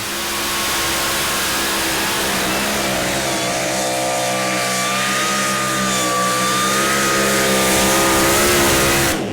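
Pulling tractor from the two-wheel-drive class on a qualification run at the 2015 European Tractor Pulling Championship in Brande, Denmark, dragging a weight transfer sledge: a loud, continuous engine roar that builds steadily as the run goes on, with no talk.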